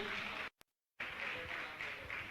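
Audience applause honoring guests at a Jain religious gathering, a dense steady clapping wash that breaks off into a brief silence, then resumes just as full and sustained.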